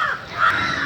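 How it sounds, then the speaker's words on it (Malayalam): A single loud crow caw rings out nearby, short and harsh, with no other sounds around it. "കിളികളുടെ സൗണ്ട് കലവില കലവില കലവില എന്ന് കേൾക്കുന്നുണ്ട്."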